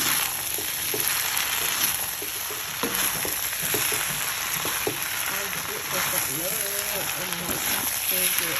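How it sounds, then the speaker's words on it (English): Kuey teow noodles with sambal, bean sprouts and greens stirred and frying in a hot pan, a steady close sizzle with scraping stir strokes throughout and a voice talking over it. "Give it a stir."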